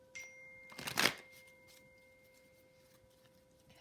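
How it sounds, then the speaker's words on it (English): A single quick riffle of tarot cards near the start, a short papery burst, then near silence with a faint steady hum. "I've already pre-shuffled. I'm going to shuffle a few more times."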